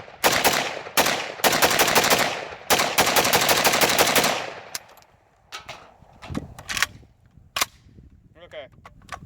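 An IO AK-47 rifle fitted with Bulgarian parts fires a few rapid automatic bursts, loud and close, over about four seconds. Scattered single shots and clatter follow as the firing trails off.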